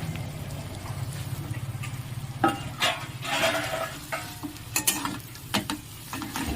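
Spices for aloo chop are stirred in a frying pan, with a steady sizzle under repeated scraping strokes of a spatula and a few sharper clinks against the pan.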